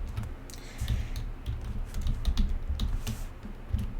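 Typing on a computer keyboard while entering Python code to read a Parquet file of crime data, with quick irregular clicks and key taps close to the microphone, no talking.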